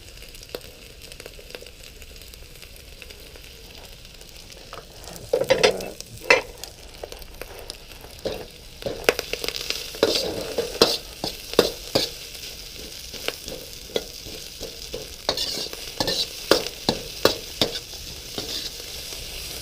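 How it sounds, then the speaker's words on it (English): Fried rice and onions on a Blackstone griddle wok, with continuous sizzling frying under repeated sharp scraping and stirring clicks from a spatula, close and busy. "I want to sweat my onions, and then I'm going to get my rice toasted here"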